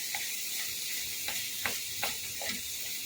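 Spice masala sizzles in oil for a dhaba-style egg tadka, a constant bright hiss broken by several soft stirring scrapes and pops at an even pace, close and with no talk.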